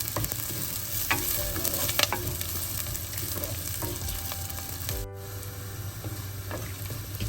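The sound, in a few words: onions and green chilies sautéing in a pan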